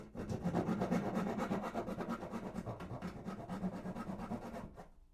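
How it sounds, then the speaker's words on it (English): A rasp scrapes steadily back and forth across wood while an acoustic guitar part is shaped for a snug fit, close and rhythmic, the strokes running for about five seconds before stopping, with no speech. "Just rasp a little bit away."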